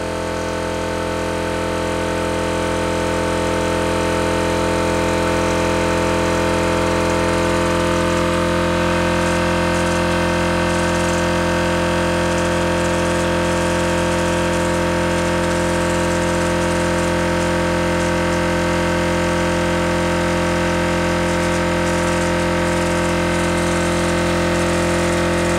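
A Ford Model A car engine runs steadily at idle with no break for the whole stretch, a loud, close, even drone with no talk over it.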